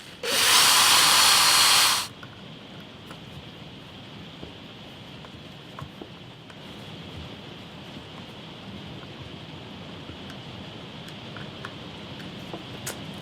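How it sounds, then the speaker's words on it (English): A loud power drill whirs briefly for about two seconds while drilling wood for a Telecaster-style guitar in a workshop, then stops, leaving a quiet room with faint background hiss and small scattered noises. "when you're drilling out that centre hole, make sure you drill the side holes first"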